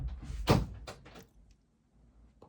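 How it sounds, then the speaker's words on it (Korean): A cat pushes open the door of a home craft studio: one fairly loud wooden thunk and rattle, followed by a couple of softer knocks, then near quiet. "고양이가 제 작업실 문을 열고 들어왔네요."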